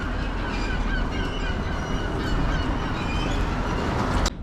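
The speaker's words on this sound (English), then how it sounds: "I love the sound of the birds in New Zealand." Birds calling outdoors in New Zealand, a dense chorus of honking and chattering calls over a steady background din, moderately distant, ending with one sharp nearby click.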